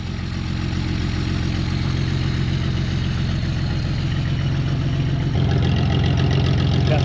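A 1940 Plymouth Deluxe engine, long stored and newly revived, idles steadily and loudly up close, a dense even rumble that picks up slightly toward the end, with no talking.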